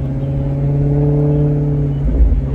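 A 2014 Maserati GranCabrio MC's V8 engine idles with a deep, steady exhaust drone close by, then swells into a louder rumbling rev near the end.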